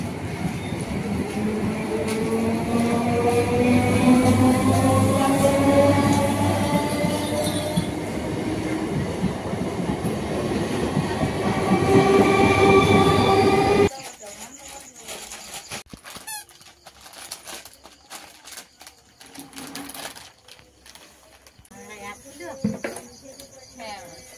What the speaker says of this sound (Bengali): ট্রেনটা এখান থেকে বেরিয়ে গেল